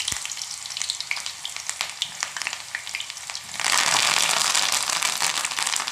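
Onions drop into hot oil for a homemade hair oil, a light crackle swelling abruptly into a loud, dense, continuous sizzle that fills the remaining seconds.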